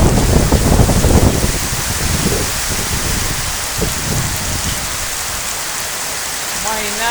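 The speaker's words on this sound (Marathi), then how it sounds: "अतिशय जबरदस्त वातावरण झालंय पावसाचं आणि इतका जबरदस्त पाऊस चालू आहे" Heavy rain pours down over Velapur village in a loud, dense, continuous hiss that is heaviest at the start and then settles into a steady roar.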